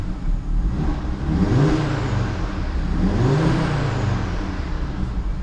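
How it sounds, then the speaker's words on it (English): An Audi RS3 Sportback's five-cylinder engine revs up twice under part throttle, each surge rising in pitch with a whooshing turbo spool, steady and fairly close. "giving the car a little bit of a prod, it's enough to have the turbo spooling up"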